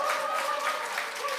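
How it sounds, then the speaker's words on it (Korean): A church congregation claps together at a Sunday worship service, a steady wash of applause from many hands at a moderate distance, with no voices. "다시 한번 우리 박수로"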